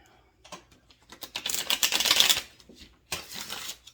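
Tarot cards are shuffled by hand in quick, papery bursts of riffling and flicking. The bursts come close and fairly loud, with brief pauses between them and no talking.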